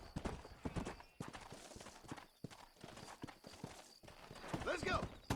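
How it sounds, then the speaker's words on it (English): Horse hooves clip-clopping during a ride in Red Dead Redemption, a steady rhythmic trot of fairly close hoofbeats with game ambience and a brief whinny-like sound near the end. "We're gonna ride the horse"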